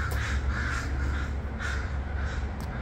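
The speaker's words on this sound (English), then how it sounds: "the eagle has probably caught one crow. And that's why all the crows are trying to save him." Crows caw loudly and repeatedly in harsh bursts as a flock mobs an eagle that has seized one of them, the calls rising and overlapping at close range.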